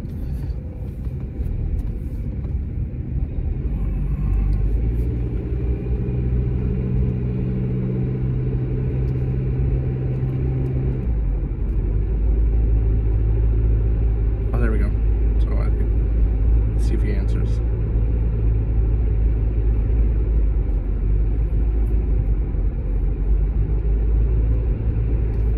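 A car driving, heard from inside as a steady, loud low rumble of engine and road noise with a brief shift in tone partway through, under no clear speech.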